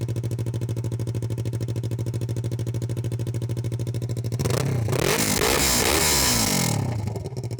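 A Yamaha R3 motorcycle with a loud exhaust cruises on a highway, its engine a steady pulsing drone that rises into a louder revving surge with wind roar midway before settling back.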